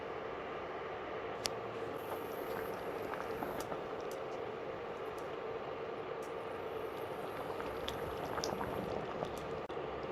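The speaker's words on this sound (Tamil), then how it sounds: "தேங்காய் சேர்த்த பிறகு லோ டு மீடியம் ஃப்ளேமில் ஒரு 4-5 நிமிஷம் கொதிக்க விட்டால் போதும்." Chicken curry with coconut simmering over a low to medium flame, giving a steady, dense bubbling and hiss with occasional small pops, close and continuous without talk.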